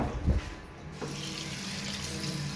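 A kitchen tap runs steadily as a dropped brinjal is rinsed under it, a soft continuous splashing stream with a brief clunk near the start.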